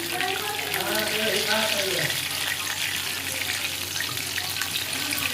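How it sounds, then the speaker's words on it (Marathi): Chicken lollipops deep-frying in hot oil until crispy give a steady, close bubbling hiss, with a spoken voice over the first two seconds. "आता एक साईड आपल्याला चांगली मस्त आता तेलामध्ये मस्त भाजून घ्यायचे क्रिस्पी सारखे"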